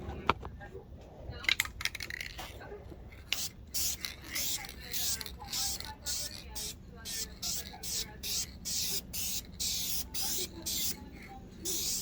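Duplicolor aerosol paint, color-matched to Chrysler PS2, sprayed in a first light coat on a rust-repaired rear quarter panel by the rear windshield frame; close, repeated hissing bursts with short gaps, steady rhythmic passes after a few rattles at the start.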